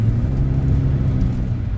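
A gold minivan's engine hums steadily while driving, a loud low rumble with road noise from inside the cabin, continuous and even.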